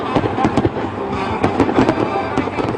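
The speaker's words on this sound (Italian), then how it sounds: "una maestosa esplosione pirotecnica a pelo d'acqua a ritmo di musica" A fireworks display bursts low over the Tagliamento river in time with music, with repeated sharp booms and crackles in quick irregular succession, loud and close, with crowd voices mixed underneath.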